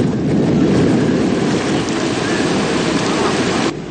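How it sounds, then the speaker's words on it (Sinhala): Heavy rain with strong wind pours down on Colombo, a loud, dense, steady rushing wash that continues without a break and eases slightly at the very end. "තද සුළං සහ අකුණු සමග අද දහවල් සිට කොළඹ නගරයට මෙසේ වැසි ඇදහැලුණා"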